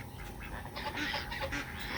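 Geese honk in a mixed poultry flock of turkeys, ducks and chickens, a few rough calls rising over a noisy farmyard background, fairly faint and not very close.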